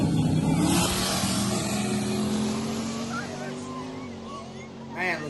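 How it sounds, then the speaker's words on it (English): Race cars in a tailgate-class drag race final at Skelton Raceway, engines droning and shifting pitch as they run, loud and steady at first, then fading a little, with voices talking over the noise. "Man, looked like a drag race right there."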